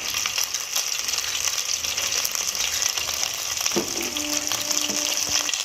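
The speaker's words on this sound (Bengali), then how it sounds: "আদা রসুন কাঁচা লঙ্কা পেস্ট করাটা দিয়ে দিলাম" Ginger, garlic and green chili paste fries in hot oil in a pan, giving a loud, continuous crackling sizzle up close with occasional stirring scrapes.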